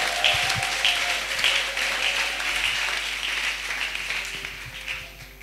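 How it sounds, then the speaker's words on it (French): Congregation in a French-speaking church applauding and calling out acclamations after a call for an amen, continuous clapping mixed with scattered shouts and whoops, fairly close and lively throughout. "Qui peut ajouter les acclamations?"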